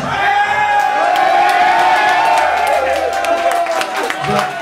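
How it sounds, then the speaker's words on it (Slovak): A nightclub audience at Vila klub in Ružomberok cheering, shouting and clapping for Lacko Meliško, a loud continuous roar of voices and applause close by. "aplauz, len a len pre Lacka"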